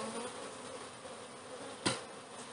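Honey bees buzz in a steady, dense drone at an opened, stacked beehive, close and continuous with one brief knock partway through.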